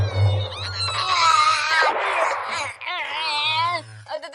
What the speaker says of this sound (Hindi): ये तो इरियोमोट वाइल्ड कैट है